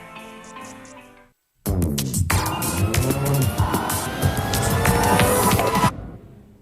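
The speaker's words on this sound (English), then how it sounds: "Workers start up the ignition and run the van through a series of tests." A newly built van's engine starts up inside a car factory and runs loud and close through production-line testing, following a brief moment of near-silence.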